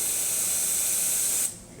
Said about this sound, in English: We got steam.